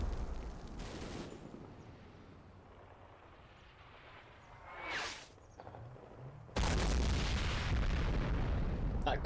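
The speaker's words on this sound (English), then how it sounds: "That's some artillery." Artillery and gunfire from a Combat Mission Black Sea battle with a BTR and enemy infantry: a distant boom, scattered shots, a whooshing swell, then a sudden loud burst of sustained fire.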